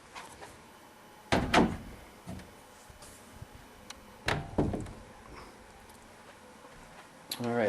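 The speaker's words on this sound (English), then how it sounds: "we put a 4-foot double door there with the ball catches" Wooden four-foot double doors with ball catches are opened and shut in a remodeled basement, giving two clusters of knocking thuds and clicks, with voices talking nearby.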